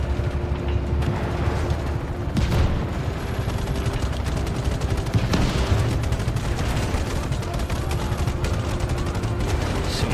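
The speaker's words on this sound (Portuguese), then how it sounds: "Estão explodindo já" Dense, continuous rumbling gunfire and blasts from Just Cause 3, loud throughout with a heavy low-end roar and occasional sharper booms standing out over steady rapid firing.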